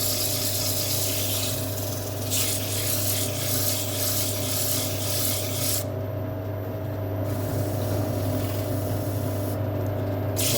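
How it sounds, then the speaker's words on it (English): Wet sanding on a green rose wood bowl spinning on a lathe, a continuous rubbing, rasping hiss over a steady motor hum, with surges of brighter scraping and no voices. "it's like sanding with water, wet and dry"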